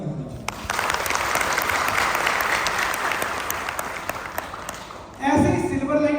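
Loud, sustained applause from an indoor crowd at an RTP marketing program in Lucknow swells and holds for several seconds, then cuts off as a voice resumes speaking.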